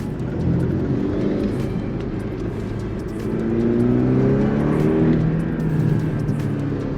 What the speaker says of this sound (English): this mid-engine 4-cylinder boxer with 300 horsepower, I tell you, is more than enough.